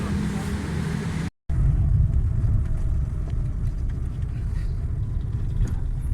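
A Suzuki Alto 1000cc car with a pickup misfire and fuel fault runs with a steady, close, low engine rumble, broken by one brief moment of silence early on.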